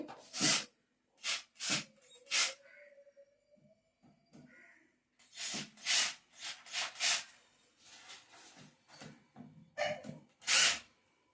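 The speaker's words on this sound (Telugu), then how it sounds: "స్క్రూలు అయితే బిగిస్తూ ఉన్నారు చూడండి" A power drill drives screws into a machine being assembled at home, whirring in repeated short bursts of a second or less with pauses between, fairly close and loud.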